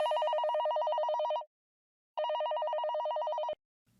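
A telephone bell rings twice in close, loud bursts, each a rapid electronic trill lasting about a second and a half, separated by a short silence.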